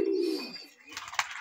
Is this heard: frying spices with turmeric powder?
no